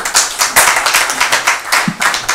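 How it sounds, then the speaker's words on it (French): A small group of people claps together at an innovation meetup, close and fairly loud, with individual hand claps audible in an uneven rhythm over a couple of seconds. "Merci, Colline, on peut applaudir"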